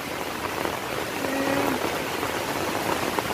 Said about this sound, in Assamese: বৰষুণ হৈয়ে আছে আৰু বৰষুণৰ মাজতে মই ভিডিঅ' কৰি আছোঁ